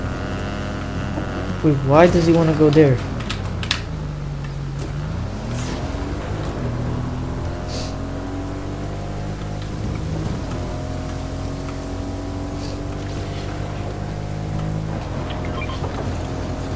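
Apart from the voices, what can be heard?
motorcycle engine in Fortnite video game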